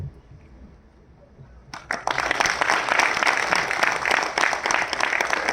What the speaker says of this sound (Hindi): जोरदार तालियां बजाते रहिए, आपका फर्ज बनता है तालियां।